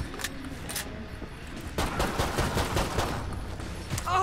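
Pistol fire in the Killing Floor 2 video game, a few spaced shots at first, then a dense run of rapid gunfire and game action noise over the second half, loud and close, with no talking.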